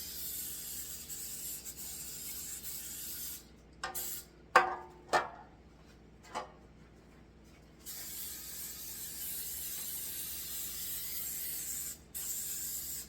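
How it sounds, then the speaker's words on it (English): Cooking oil spray is aimed into bread pans: a long steady hiss, a pause with a few short clicks and bursts, then more sustained spraying and one brief break near the end. "I'm going to get my bread pans, and I'm going to spray them with cooking oil."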